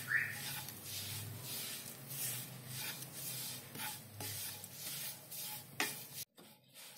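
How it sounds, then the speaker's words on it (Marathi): Spoon stirring roasted gram flour with red chili powder in a pan, a soft continuous scraping and rustling with light sizzle underneath, fairly quiet and steady, ending abruptly near the finish. "चांगले मिक्स करून घेऊया"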